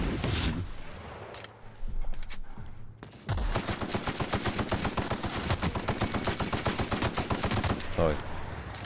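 Rapid automatic gunfire from a special gun loaded with explosive ammunition in the video game The Outer Worlds, a dense, loud stream of shots running steadily after a brief, busier opening.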